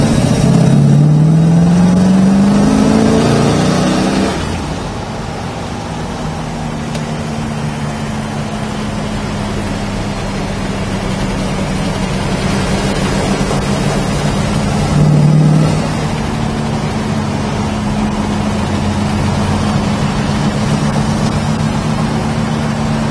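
A 1966 Chevrolet Chevelle engine drones steadily at close range while driving, revving up at the start and briefly again midway, with no voices over it.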